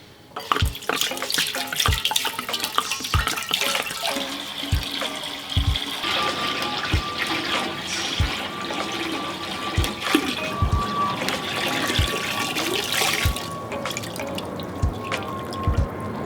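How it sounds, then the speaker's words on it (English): Water for maple syrup mead pours steadily into a brewing pot close by, with a continuous splashing rush and regular low knocks underneath. "Now that we got the water poured in"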